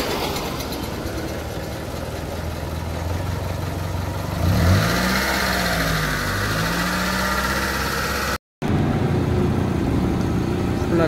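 A car engine runs after a new battery is fitted, with a steady mid-pitched idle and vibration. Midway it gives a rising-and-falling rev, then settles back to idle, with a brief cut near the end.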